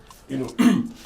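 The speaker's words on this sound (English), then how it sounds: "I clear my throat" A short, rough throat clearing in two gravelly bursts, close and moderately loud, with no other sounds around it.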